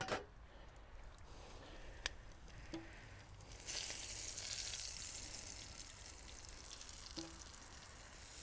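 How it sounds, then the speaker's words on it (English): Caramelised onions sizzle in a pan beside steak, a steady, faint frying hiss that swells a little midway. A few small clicks and taps break it up, and there is no talking. "Let's get these onions off before they go from being caramelised to cremated."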